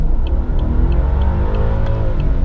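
A 2003 BMW 745i E65 accelerates hard in a full-throttle test on a road, its engine note climbing loud and close as the revs rise through the gears, with no talking.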